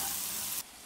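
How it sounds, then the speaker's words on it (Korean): Onions sautéing in butter for a spicy hangover pasta give off a steady, close sizzle that drops away sharply near the end, with no talking. "이제 양파를 넣고 볶아줘요"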